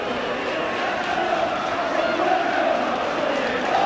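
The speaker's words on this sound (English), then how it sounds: "every tackle that Salford Reds put in, it brings a great cheer, round of applause from this Willows crowd" Rugby league crowd at the Willows, Salford, roaring and cheering steadily from the terraces during a Salford Reds versus Wigan match, a dense continuous wash of voices that swells slightly toward the end.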